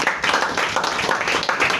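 An audience at an awards unveiling event in Kenya gives brief, dense applause, many hands clapping at close range in a continuous burst.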